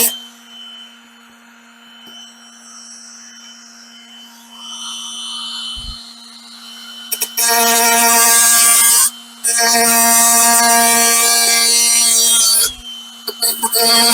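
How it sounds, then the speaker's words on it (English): A Dremel with a cutoff wheel slices through a plastic rear mudguard on a Suzuki DRZ400 during a fender eliminator install. After a quiet lead-in, two long, loud, high whining cutting bursts follow, split by a brief pause. "I've got a Dremel here with the cutoff wheel on it"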